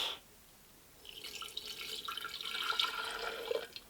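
Liquid, a Monster Energy drink, poured into a cup, a soft trickling and splashing stream that starts after a quiet second and builds steadily, close and faint with no talking.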